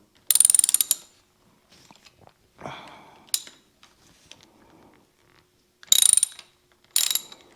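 Ratchet loosening handlebar bolts on a Ninebot Max electric scooter: several bursts of fast, close clicking, with quieter rattles and handling noises in the pauses between them.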